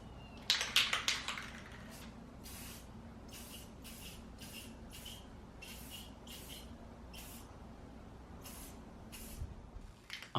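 Short bursts of spray paint hiss as a silver base coat goes onto a Mandalorian helmet build, about a dozen quick separate puffs at a steady pace over quiet room noise.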